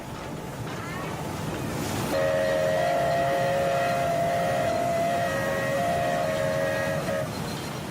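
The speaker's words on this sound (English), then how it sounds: "But it's always a special occasion when a steam train goes by." A steam train on an Indian Railways line rumbles past in a loud, steady roar, and its whistle sounds a long, sustained blast for about five seconds in the middle.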